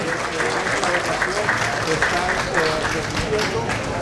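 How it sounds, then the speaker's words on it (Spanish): Guests at a municipal council swearing-in ceremony applaud, a dense, steady wash of clapping from a sizable crowd that continues throughout, with an announcer's voice over it. "con ese fuertísimo aplauso de parte de todos los invitados especiales de esta importante y trascendental ceremonia de toma de posesión."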